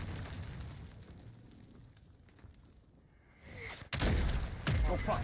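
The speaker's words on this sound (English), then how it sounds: "Oh fuck, airstrike." Airstrike explosions in a first-person shooter game erupt suddenly after a quieter stretch, a loud booming blast followed by rumbling debris and a second heavy hit close by.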